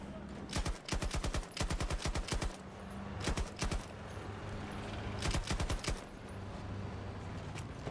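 Rapid bursts of video game gunfire crackle loudly in several clustered volleys, with automatic-weapon rattles separated by short pauses over a steady background hum.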